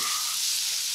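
Onions sizzle and hiss steadily in a hot frying pan, close up, with no talking.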